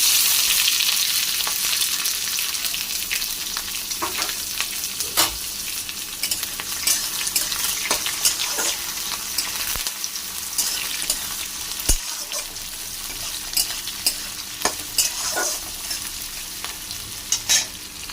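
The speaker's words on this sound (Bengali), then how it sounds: "পেঁয়াজ হালকা করে ভেজে নেব।" Chopped onion fries in mustard oil with mustard seeds, two dry chillies and curry leaves, a steady close sizzle and hiss punctuated by occasional scrapes and knocks of stirring, with no talk.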